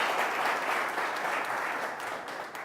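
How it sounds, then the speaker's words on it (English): A studio audience claps for a guest on an elimination-style show, producing a sustained, even burst of applause that stays fairly loud and tapers slightly toward the close. "Round of applause for him,"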